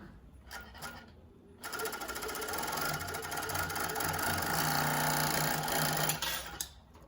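Jack W4 cover stitch sewing machine stitching binding with top and bottom cover stitch: a few soft clicks, then a sustained fast mechanical whir, close and moderately loud, tapering off at the end.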